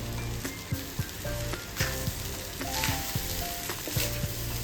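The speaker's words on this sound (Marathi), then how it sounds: "शिजवून घेतलेला भात आहे तो घालणार आहेत. थोडा थोडा करून घालायचा आहे." Cooked rice stirred into a roasted raw mango mixture fries in a pan with a constant loud sizzle, punctuated by rhythmic scraping strokes of a spatula against the metal.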